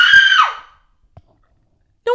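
A woman screams loudly at the top of a ravine, one long high cry that slides down and fades out, followed by near silence with a faint thump and a brief sound at the very end.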